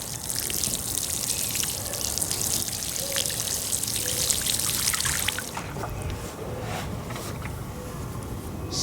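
Water poured steadily from a hose or can onto soil around the base of a newly planted Blenheim apricot tree, a continuous close trickle and splash that eases off toward the end.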